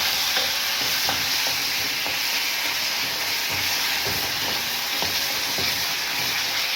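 Tomatoes go into a pan of browned onions, and a steady hiss of frying fills the scene with soft stirring scrapes and clicks, close and constant, without any talk.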